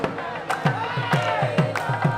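A dense crowd at the Thaipusam festival fills the air with a loud, steady murmur, while rhythmic drum or percussion beats strike at regular intervals throughout.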